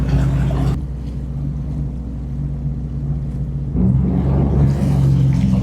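Sea-Doo personal watercraft riding a tidal river near a river bar, its engine droning loud and close with a steady rumble, surging louder partway through as the water rushes past.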